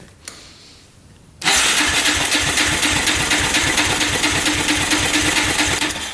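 Quad (ATV) engine cranking over with the throttle open during a compression test: after a quiet start, a loud, steady, rhythmic chugging of the starter turning the engine runs for several seconds without firing.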